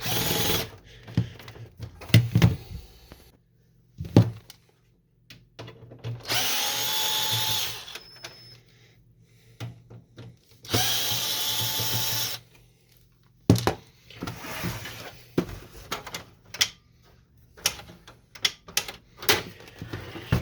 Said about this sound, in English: we're going to remove these screws right here